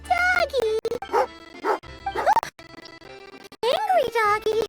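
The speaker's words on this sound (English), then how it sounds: "Angry doggy." Angry dog in the video game Genshin Impact barking and yipping in several short sharp bursts separated by brief pauses, loud and close.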